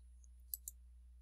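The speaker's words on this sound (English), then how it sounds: "Now we'll click the Browse icon." Two sharp computer mouse clicks, close and quick, about a sixth of a second apart, over a quiet low electrical hum.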